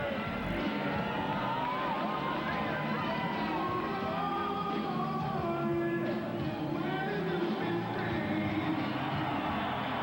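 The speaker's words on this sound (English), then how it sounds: "The entrance of Holyfield and Moore has energized this crowd at the Thomas & Mack." A boxing arena crowd at the Thomas & Mack cheers the entrances of Evander Holyfield and Michael Moorer, a dense, continuous roar of whoops and yells with no break.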